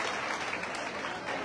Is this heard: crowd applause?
yes